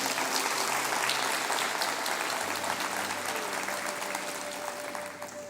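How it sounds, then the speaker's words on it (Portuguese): Congregation applauding during a church sermon, a sustained wash of many hands clapping that gradually softens toward the end, with a faint held tone and murmur beneath. "Aplauda o Senhor Jesus"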